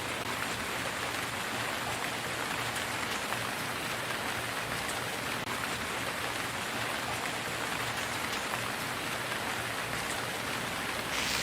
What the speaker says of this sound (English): The rain must be interfering with the terminal.